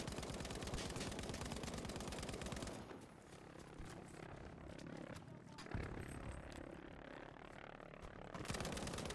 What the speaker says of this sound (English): Trying to shoot the V1?